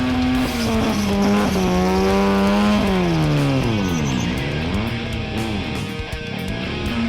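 A car does skids on a skid pad at an import car show, its engine screaming loud and close with revs swooping up and down under tyre squeal, steady and unbroken throughout.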